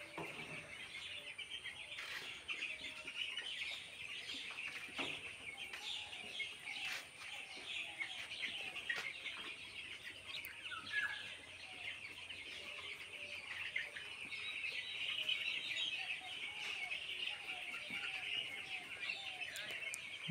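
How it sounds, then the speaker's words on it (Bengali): A dense, steady chorus of peeping from a flock of 12-day-old broiler chicks inside a poultry farm house, high-pitched calls overlapping continuously at close range with no talk. "এটা হচ্ছে আমাদের আজকে 12 দিন বয়সী মুরগির বাচ্চা।"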